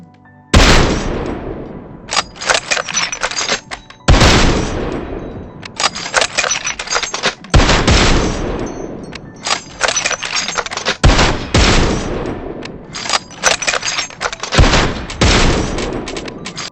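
Bolt-action rifle fire from a Mosin Nagant and a Kar98k in PUBG Mobile, five loud sharp reports spaced roughly three to four seconds apart, each followed by bolt-cycling clatter and mechanical clicks, with no talking.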